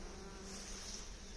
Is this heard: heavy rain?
no